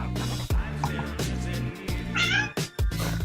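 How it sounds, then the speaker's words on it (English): A house cat meows repeatedly in several drawn-out, wavering calls, loud and close, over a steady background hum. "It's just meowing at me."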